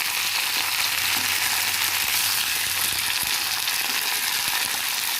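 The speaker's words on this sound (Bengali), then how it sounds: "দিয়ে দিয়েছি তেল, দিয়ে দিয়েছি গোটা গরম মশলা, এগুলো দিয়ে দিলাম, এগুলোকে ভালো করে ফ্রাই করে নেব" Whole garam masala spices (cardamom, cinnamon, cloves) and a green chili fry in hot oil, giving a steady, dense sizzle that holds evenly throughout with no voices.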